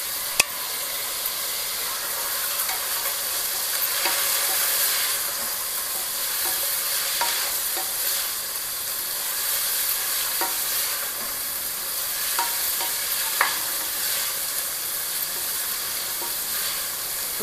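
Potatoes and green peas frying in a pan while a spoon stirs them, a steady broadband sizzle with soft scraping clicks through the whole stretch and no talking.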